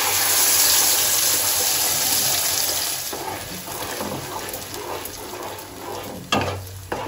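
Blended green bean paste mixed into hot oil in a pan, a loud broad frying hiss that eases after a few seconds into wet stirring and scraping, close up with a sharp clatter near the end.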